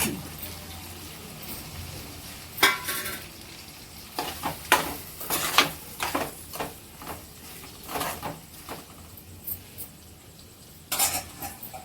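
Prawns and onions frying in a pan, with a steady sizzle under intermittent stirring and scraping of a utensil against the pan, plus occasional sharper clinks; no talking.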